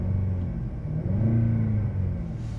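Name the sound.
2011 Jaguar XJ Portfolio engine revving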